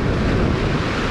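Big ocean waves surge against a rock jetty at Seal Beach in a brief, steady roar of broadband wash mixed with wind buffeting the microphone.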